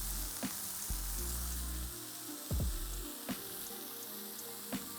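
Burger patties topped with cheese fry in a pan, giving a steady sizzling hiss with occasional spits and pops alongside a low, tonal hum; no voices.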